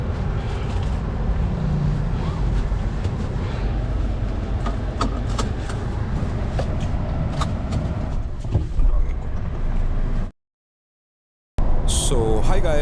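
Mahindra Thar RWD, a 2023 rear-wheel-drive SUV, being driven: steady cabin engine and road rumble with clicks and bumps, someone talking over it, then a brief cut to silence.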